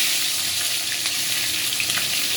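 Tomatoes and spices fry in hot oil in a wok, giving a loud, dense, continuous sizzle with faint crackles throughout and no talking.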